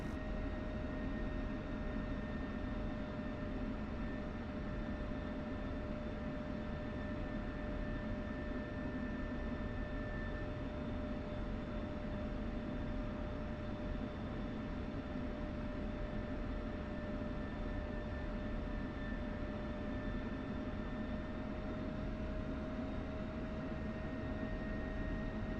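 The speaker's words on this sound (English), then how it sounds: "I'm in the F-16 again for a little bit more practice with it." F-16 jet engine in the DCS flight simulator, a steady broadband roar with a constant high whine running unchanged throughout, even and continuous with no voices.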